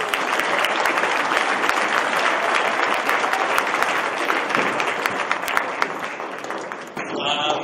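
A large audience at a school alumni orchestra concert applauds steadily, dense and loud without letup, then the clapping cuts off near the end.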